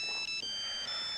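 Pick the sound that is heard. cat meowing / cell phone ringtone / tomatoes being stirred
cell phone ringtone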